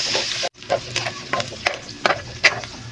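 Garlic fries golden in a pan for pork sarsado pancit, with a steady loud sizzle under repeated stirring scrapes of a utensil against the pan, close and busy throughout.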